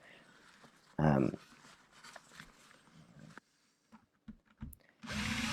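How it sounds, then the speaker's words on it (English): A power drill whirs in a short loud burst, drilling out an old buckle, then quieter mechanical buzzing and clicks follow, ending with another strong burst of noise. "more drill work to get the buckle out, the old buckle"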